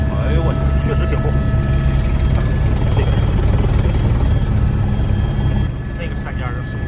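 A helicopter flies nearby, its rotor throb and engine whine loud and constant, easing slightly near the end, while people talk over it.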